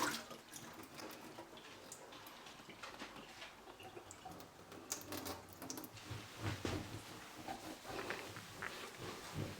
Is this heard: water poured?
yes